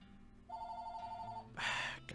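A telephone rings in a steady electronic trill for about a second, then a louder burst of noise follows, with no talk.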